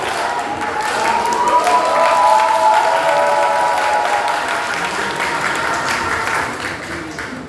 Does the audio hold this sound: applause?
yes